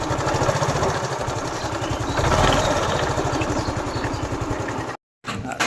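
A Yamaha Ray Z scooter with a faulty clutch runs close by, its engine giving a steady, loud, rhythmic putter with a rattling edge, cut by a brief dropout near the end before resuming.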